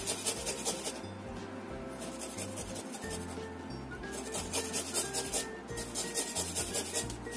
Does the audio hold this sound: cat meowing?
no